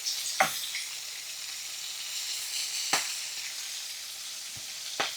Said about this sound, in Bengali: এটা আমি হাই ফ্লেমে করতেছি যেন ভেতরে কুক না হয়ে যায় উপরেটা ভালো করে ভাজা ভাজা হয়ে যায়